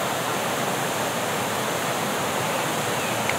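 Chet Sao Noi Waterfall in Muak Lek, Saraburi, Thailand, gives off a steady, full broadband rush of falling water, close and unbroken throughout with no voices.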